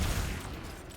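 A Vox Obscura weapon shot in Destiny 2 opens with a heavy, booming burst and rolls into a dense, sustained explosive rumble across the whole second.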